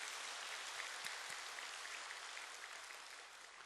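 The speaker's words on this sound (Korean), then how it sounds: "이렇게 저 2층에도 우리 따뜻하게 사랑의 박수를 좀 보내주시기를 바랍니다" Warm, steady applause from a church congregation, including people seated on the upper floor, rolls on as a soft, distant wash of many hands before slowly fading.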